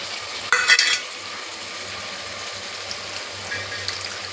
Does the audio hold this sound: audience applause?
no